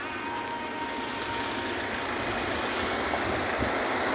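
A large vehicle rumbles past on a hot city street, a steady loud low roar of engine and road noise with no talking.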